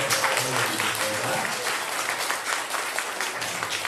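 A church congregation at a Sunday worship service applauds warmly to welcome visiting pastors, a full, sustained round of clapping that stays even throughout.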